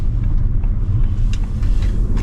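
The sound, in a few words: 2025 Audi S5 accelerating hard from standstill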